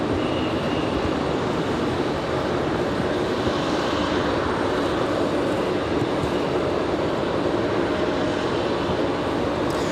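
Continuous broadband roar of an American Airlines Boeing 737-800 arriving at Raleigh-Durham airport, steady and loud for the whole stretch with no talk.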